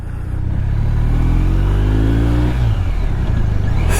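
A BMW R1250 RT motorcycle pulls away in first gear, its engine loud and close, the note rising steadily as the revs climb, then dropping as the throttle eases.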